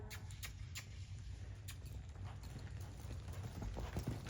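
A horse loping, hooves thudding faintly and rhythmically at a distance over a constant low rumble, with soft clip-clop beats throughout.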